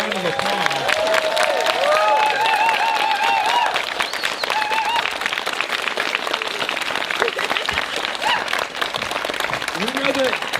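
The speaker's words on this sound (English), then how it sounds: "Let's give all of these people a round of applause." An audience at the closing announcements of a Niantic gaming event applauds loudly and continuously, the dense clapping filling the whole stretch while a voice talks over it.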